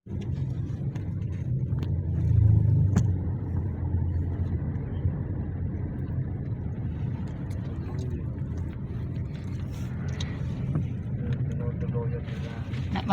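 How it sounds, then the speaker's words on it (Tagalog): Road traffic in a congested area with a traffic light, a steady low engine rumble and idling vehicles throughout, with people talking over it. "Pero traffic pa rin talaga, no? Traffic talaga rito, ma'am."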